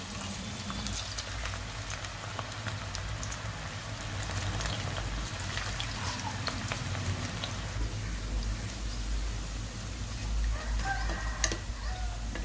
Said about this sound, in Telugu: ఆయిల్ వేడెక్కింది. పకోడీ వేసుకుందాం.